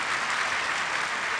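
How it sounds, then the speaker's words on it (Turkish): Audience applause at an award ceremony in Tokat, a steady dense clapping filling the room without pause, fairly loud and with no voices over it. "Kanal 60 için de bir alkış alabilir miyim efendim sizden?"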